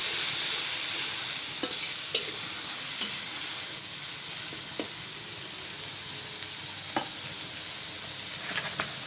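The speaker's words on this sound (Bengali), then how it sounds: "এখন আমি পেঁয়াজটা ভেজে নেব।" Chopped onions frying in a pan while being stirred for a spiced duck curry: a steady soft sizzle throughout, with occasional light scraping and tapping clicks from the stirring utensil.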